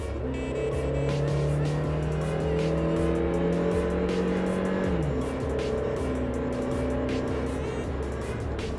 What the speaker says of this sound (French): On va monter un peu dans les tours,